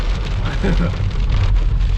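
Heavy rain drumming on a car driving down hairpin bends near Gudalur, a dense, steady wash of rain noise over a low rumble of the vehicle, close and continuous.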